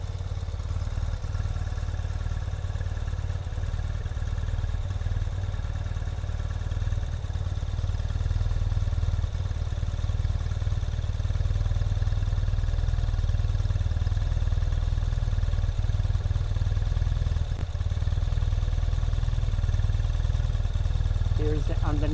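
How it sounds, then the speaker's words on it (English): A 2021 Ural Gear Up sidecar motorcycle's engine idles loud and steady, with a constant low rumble running unbroken throughout. "Starts right up and runs impeccably smooth."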